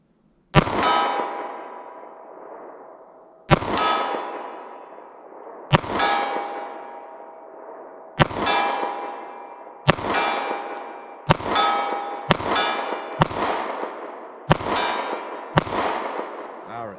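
Hornady Critical Duty 9mm+P rounds from a short-barrel pistol strike a steel target about 41 yards away, giving eleven loud ringing clangs that each decay slowly, spaced a few seconds apart and then coming faster.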